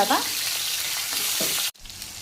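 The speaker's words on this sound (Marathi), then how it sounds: "मस्त हे वांगे आता याच्यामध्ये फ्राय होऊ द्यायचे, मस्त भाजून घ्यायचे 5 मिनिटं छान तेल." Eggplant fries in oil on a tava for tava vangi, a dense close sizzle with a brief stirring scrape. A single word is spoken before the sizzle dips suddenly and carries on more quietly.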